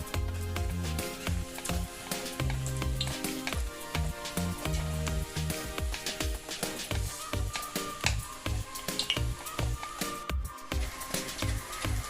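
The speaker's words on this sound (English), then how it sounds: "This method of slicing the plantain over the oil prevents the plantain from sticking together" Plantain slices dropped into hot oil for plantain chips fry with a dense, steady sizzle and crackle, interrupted by rhythmic thumps of the slicer, loud and close throughout.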